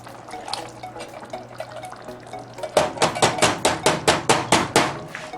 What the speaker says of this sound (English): We're going to put the other can of kidney beans in.